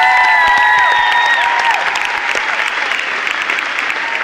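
Loud concert audience applause for an opening act, dense clapping that starts under fading sustained musical tones and then continues on its own, close and full.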